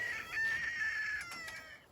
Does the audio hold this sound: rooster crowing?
yes